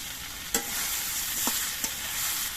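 Small tomato pieces and fried vegetables hiss in a pan, a soft steady sizzle broken by a few sharp crackles and spatula taps.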